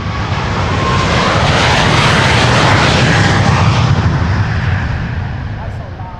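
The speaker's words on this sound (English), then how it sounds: "This is KLM flight 743 to Lima in Peru. That's a 777-300 the PHBVD." KLM Boeing 777-300 airliner on its takeoff run at Amsterdam Schiphol, a loud close roar of engines swelling to a peak and then slowly fading as it climbs away.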